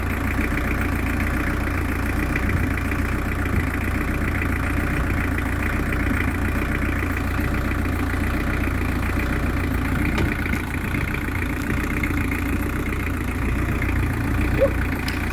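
An engine idles steadily for the whole stretch, a continuous low mechanical rumble with no revving, while an electrical meter is used to check whether the alternator is charging.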